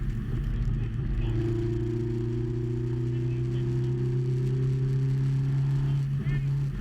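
A British-built sports car circles a race track, its engine holding a steady, loud drone with rising harmonic tones as it runs flat out along the back straight, continuous for the whole stretch.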